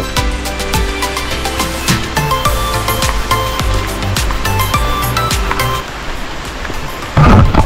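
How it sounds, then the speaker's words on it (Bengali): Light rain falls on a roadside near homestays in Tabakoshi, a steady soft patter with scattered sharper drips and footsteps, ending in a brief louder burst. "বৃষ্টি হচ্ছে অল্প।"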